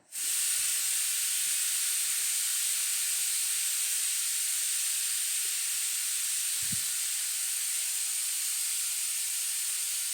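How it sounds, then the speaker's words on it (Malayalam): Spice powders and slit green chilies sautéing in a pan for a curry give off a steady, loud hiss that runs unbroken from start to end, with one dull low knock partway through and no voices. "പൊടികളുടെയൊക്കെ പച്ചവാസന ഒന്ന് മാറുന്ന വരെ നമുക്കിതൊന്ന് വഴറ്റാം"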